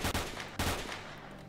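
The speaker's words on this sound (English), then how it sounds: "How the hell are you sons of bitches shooting me through that pipe?" Two heavy gunshots from the video game Stalker, one right after the other, each with a loud sharp crack and a long reverberant tail, with no voices.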